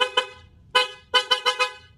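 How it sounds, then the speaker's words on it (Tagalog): Yamaha Tracer 9 GT motorcycle horn with custom wiring and the engine off, sounding one short toot, a longer blast, then a rapid burst of three or four close, loud honks. "busina tayo."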